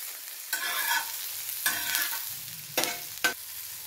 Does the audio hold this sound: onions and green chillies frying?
yes